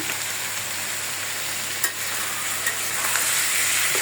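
Pigeon meat fries with turmeric and salt in a pan with a continuous, even sizzle and a few faint clinks, steady and close with no speech.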